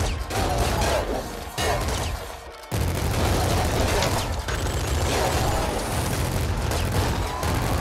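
Sustained video game gunfire, a loud, dense stream of automatic shots and booms with one short pause, continuing almost without break.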